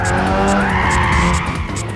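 Tires squeal steadily through a drift in the racing game Gran Turismo 6, a loud, continuous skidding screech over the car's engine with no talking.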